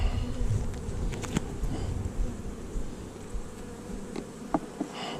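Honey bees buzzing in a hive while drawing out comb, a dense steady hum of many wings with a few closer bees droning past, fairly loud and close, no talking.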